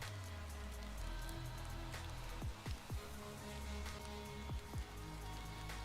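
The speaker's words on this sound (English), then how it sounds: "I do like the rain background though." Steady rain falls as a soft, continuous wash in the background of a casual livestream, with a few brief low swooping tones rising out of it near the middle and toward the end.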